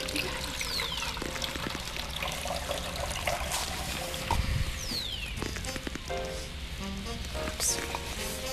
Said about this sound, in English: Pour some water from cup C.